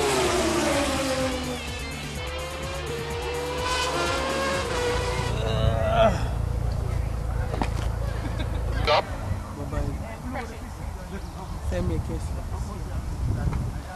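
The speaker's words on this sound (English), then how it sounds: "Donuts were the order of the day, and the Jamaican crowd loved it." A Red Bull Mazda RX-3 race car spins donuts at the Caribbean Championships in Jamaica, its engine revving and tyres scrubbing in a loud, continuous roar, with someone narrating over it.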